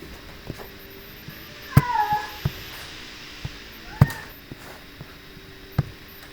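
A domestic cat indoors gives a few short, fairly faint meows near the start and middle, set against quiet room noise and scattered soft clicks and knocks.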